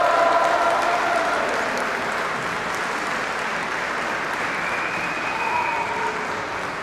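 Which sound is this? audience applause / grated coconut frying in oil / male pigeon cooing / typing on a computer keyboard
audience applause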